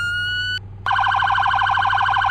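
A loud electronic police siren in Roblox, from a sheriff's unmarked unit, holds a steady high tone, cuts out briefly, then returns as a rapid warbling priority tone that pulses continuously.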